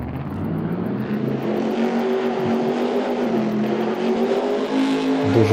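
A powerful car engine in Farming Simulator 22 revs steadily with a droning, rising tone as the vehicle with big heavy tires climbs rocky terrain, loud and close with no talking.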